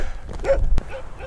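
A large dog in the mountains gives a short bark and a couple of fainter yips close by, with a sharp thump in between.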